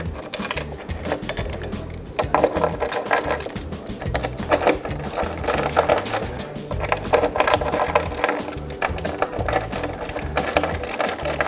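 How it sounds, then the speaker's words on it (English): Screws being driven into the screw holes of a snowboard binding, a continuous rattling, grinding mechanical buzz that carries on steadily and loudly throughout. "into the actual screw holes, again lightly screw"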